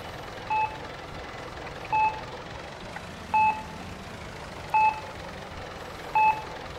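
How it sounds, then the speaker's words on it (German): Repeated electronic beeps in Farming Simulator 22, five evenly spaced short two-tone chirps about every 1.4 seconds over a low ambient engine hum, with no talking. "Dieses Gepiepe schon wieder?"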